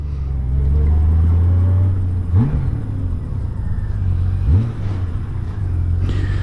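A Honda GL1500 Goldwing engine idles steadily after a carburetor rebuild, a close, constant low rumble with a couple of brief swells in revs, no voices.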